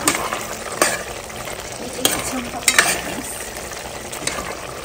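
Meat frying in a pan sizzles steadily while a utensil stirs it, with several sharp scraping clicks against the pan, close and with no talk.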